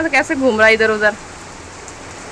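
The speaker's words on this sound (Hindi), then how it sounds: "लग गई भाई झमाझम वाली बारिश फिर से, कल की तरह ही लगी है।" Heavy rain pours down as a continuous, even hiss. A person talks briefly at the start, then the rain carries on alone at a moderate level.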